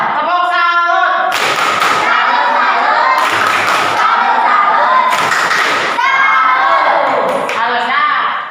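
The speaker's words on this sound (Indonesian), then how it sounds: "Baik, kita berikan tepuk salut bagi buat kelompok." A classroom group claps in loud rhythmic bursts of a patterned cheer, with sung or chanted voices joining between the clap sequences.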